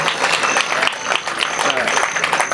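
Audience applause at a poetry gathering (kavi sammelan) in NN Township: steady, dense clapping from a crowd that fills the whole moment at even loudness, with no voice rising clearly above it.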